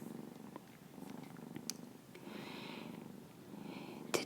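A foster kitten purrs softly and steadily while being gently massaged, a faint close rumble with small rustles of hands moving over fur.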